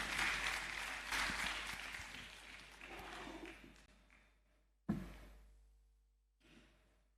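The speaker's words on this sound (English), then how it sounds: "Please, a round of applause." Convocation audience at a university graduation gives a round of clapping, dense and loud at first, gradually thinning and fading, then a sharp thump and a brief renewed patter of claps near the end.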